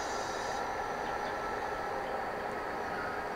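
A Berlin S-Bahn train braking, heard as a steady, loud rumble of wheels and rail noise that fills the whole stretch without any pause, with a faint high squeal above it.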